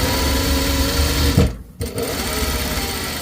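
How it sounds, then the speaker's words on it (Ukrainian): A sewing machine stitches a dart in fabric, its fast steady whirring running close up, breaking off for a moment at the end of the seam before starting again. "шиваємо знизу вверх, роблячи закріпки на початку та на кінці шиття"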